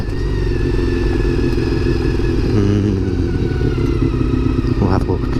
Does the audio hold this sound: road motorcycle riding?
yes